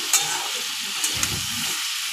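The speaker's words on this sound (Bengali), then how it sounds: "চিংড়ি মাছটাও দিয়ে দিয়েছি, দিয়ে আমি একসাথে আবার ভেজে নিচ্ছি।" Jackfruit and prawns frying together in hot oil, a steady close sizzle with a few sharp utensil clicks and stirring scrapes.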